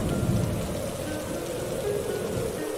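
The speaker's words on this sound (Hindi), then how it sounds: "तेज हवाएं भी चल रही है, बिजली भी कड़क रही है" A thunderstorm with steady heavy rain and low rolling thunder rumbling continuously underneath, loud and close throughout with no speech.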